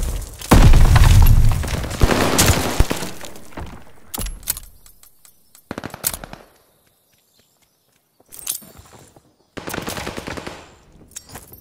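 Loud, close gunfire at a hard point in a video game, with bursts of rapid shots and booms broken by short silences and scattered single shots and clatter.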